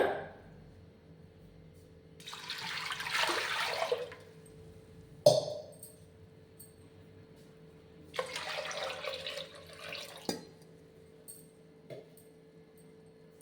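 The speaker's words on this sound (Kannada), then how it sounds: "ಇದಕ್ಕೆ ಇವಾಗ ನೀರು ಹಾಕ್ಕೊಳ್ಳೋಣ" Water splashes into a pressure cooker holding washed lentils in two short bursts of pouring, separated by quiet pauses and a few clinks.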